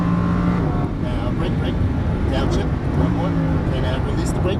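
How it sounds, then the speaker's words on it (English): A Lamborghini Huracan LP610-4 accelerates hard on a race track, its engine note steady and prominent with shifting pitch, while a driving instructor's voice talks over it. "Squeeze that throttle and accelerate out to the left side."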